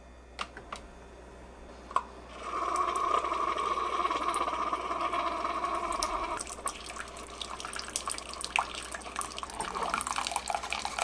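Keurig K Elite coffee machine on its iced setting, a few clicks then a pump hum and trickling brew stream pouring steadily into a teapot, close and moderately quiet.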